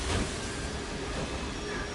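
Trains moving in Assassin's Creed Syndicate, set in Victorian London, a steady rumbling, hissing rail roar that holds for about two seconds without talk.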